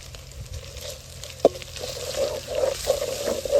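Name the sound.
onion paste and green chillies frying in a pan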